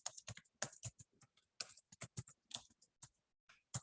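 Code typed on a computer keyboard in quick irregular bursts of close, crisp keystrokes with short pauses between, and no talking.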